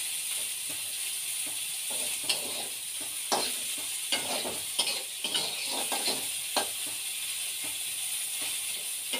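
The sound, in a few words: egg frying and being stirred in a pan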